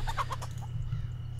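Chickens in the pixel-art game Pixel Piracy give several quick, rhythmic clucks close up, then fall quiet over a low steady hum.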